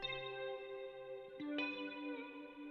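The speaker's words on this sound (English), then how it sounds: "This you'll hear I do a little whammy bar thing." Sustained electric guitar tone with effects, its pitch dipping and rising as the whammy bar bends the notes, smooth and upfront with no talking, in a country-style beat.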